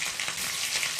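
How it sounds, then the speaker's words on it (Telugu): Mustard seeds and cumin crackle and sizzle in hot oil for a tempering, a dense close frying hiss with no talk over it. "మంచిగా ఆవాలు, జీలకర్ర ఇవన్నీ చుట్టుపక్కలాడాలన్నమాట"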